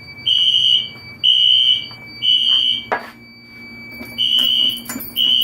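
A new smoke detector and fire alarm sounds during a test with loud, piercing beeps in a repeating on-off rhythm. There is a brief clatter partway through, and the beeps then resume, close and dominant.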